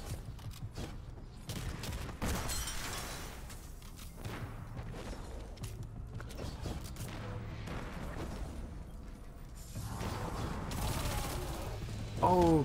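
Weapon fire in the video game Destiny, aimed at crystals in a Lost Sector, with bursts of rapid repeated gunshots and booms alongside game effects, plus brief speech.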